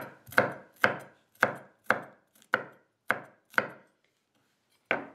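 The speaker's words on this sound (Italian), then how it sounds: "Una volta aperti, tagliamo la fave se è abbastanza tenera." A knife chopping tender fava beans on a board, eight crisp evenly spaced cuts at a steady rhythm, then a pause and one more cut, close and clear with no talking.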